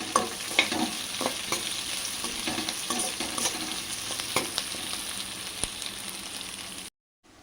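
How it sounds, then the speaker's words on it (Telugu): Onions and curry leaves frying in oil for a stuffed brinjal curry, with a steady close sizzle broken by repeated clattering strokes of a stirring spoon, cutting off just before the end. "ఎర్రగయ్యే వరకు వేయించుకోవాలి."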